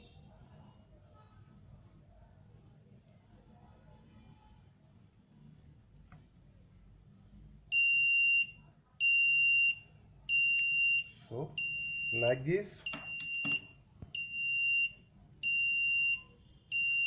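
Repeated electronic engine overheat warning buzzer beeps in steady pulses start partway through, loud and close, with someone speaking briefly over a low hum.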